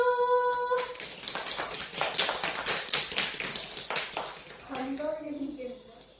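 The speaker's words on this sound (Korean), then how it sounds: "박수!" Children clapping at the start of a Korean kids' toothbrushing play, a dense run of quick claps over about four seconds, then a child's and an adult's voices singing and talking.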